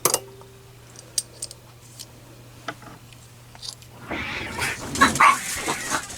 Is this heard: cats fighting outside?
yes